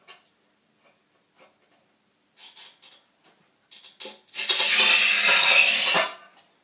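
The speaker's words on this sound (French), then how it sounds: "essayer de couper du grès cérame avec la petite carrelette" A small manual tile cutter works on porcelain stoneware tile: a few scattered clicks and taps, then a sustained loud scraping score lasting about two seconds before it stops.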